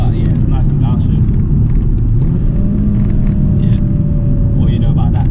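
A stage 2 tuned BMW M235i downshifts, heard from inside the cabin as a loud, steady engine rumble whose pitch briefly rises and settles. People talk over the engine noise.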